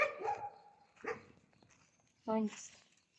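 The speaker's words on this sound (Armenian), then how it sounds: "այս նոր շները, որոնք հաչում են" Dogs bark in short, sharp bursts, a few separated yelps and barks spaced over a couple of seconds, fairly close.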